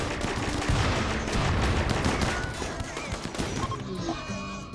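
Grenade blasts and rapid gunfire from a Rimworld battle, loud and dense throughout, with overlapping shots and explosions that ease slightly toward the end.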